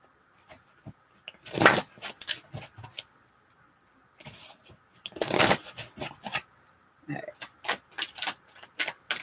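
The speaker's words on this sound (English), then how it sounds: "I'm going to shuffle for a little bit so you have time to focus and think." Tarot cards being shuffled by hand, heard as bursts of riffling and soft slapping in two main runs separated by a brief pause, close and fairly loud, with no talking.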